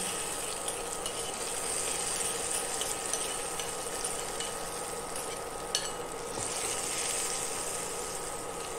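Hot tempering (phodni) poured over leftover-vegetable chutney and stirred in, giving a steady broadband sizzle that runs evenly throughout at moderate level with faint clinks, no voices.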